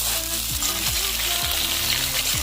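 Cut, washed potatoes with a little salt and turmeric frying in oil for a Bengali chicken curry, giving a steady close sizzle throughout with a faint tonal line over it.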